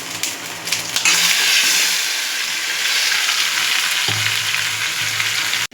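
Soya chunks sizzle and crackle loudly as they fry in hot oil in a wok with grated ginger and garlic, a steady dense hiss with occasional stirring scrapes, close up and with no talking.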